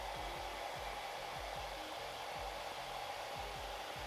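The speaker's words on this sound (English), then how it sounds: "the first thing we're gonna do with our hair dryer is actually we're gonna heat up just the top of this curler here" A hair dryer blows steadily and close up, heating the top of an eyelash curler, a continuous loud whoosh with a low pulsing flutter repeating under it throughout.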